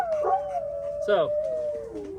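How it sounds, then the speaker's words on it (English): A dog howls in a long, wavering tone that slides slowly downward, with a short sharper yelp or second voice breaking in midway, fairly close and moderately loud. "do your dogs howl?"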